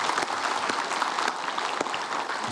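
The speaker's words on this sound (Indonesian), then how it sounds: "Tepuk tangan untuk Ustadz Zaki Mirza." Applause from an audience at an Indonesian Islamic religious talk show, greeting a preacher as he comes on stage; dense, steady clapping fills the whole stretch without pause.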